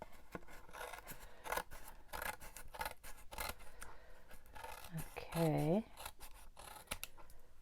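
Scissors trim paper for a botanical journal cover with repeated close snips and rasping cuts. A person speaks briefly, and one short rising squeak stands out partway through.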